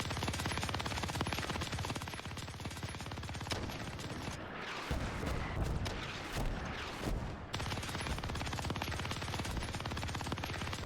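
Dense, continuous video game gunfire, heavy automatic bursts and booming cannon shots, rolls on loud nearly throughout, with a brief lull in the middle before the barrage resumes.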